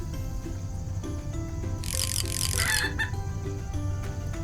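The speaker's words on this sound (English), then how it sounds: "It's a chicken!" A chicken on a farm clucks in short, close calls over a steady low background murmur, with a brief burst of higher noise midway.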